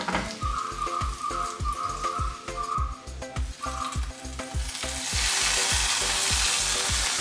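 Mustard seeds, dried red chillies and curry leaves sizzle in hot oil as a tempering for a homestyle Kerala yogurt curry, crackling and popping loudly up close, then swelling into a broad hiss as the leaves go in.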